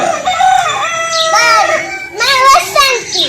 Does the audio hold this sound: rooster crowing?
yes